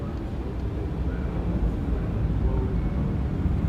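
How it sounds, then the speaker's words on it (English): A real airplane flying overhead near an air museum, heard as a steady, loud low rumbling drone that holds level throughout with no break. "That's a real airplane we hear in the background."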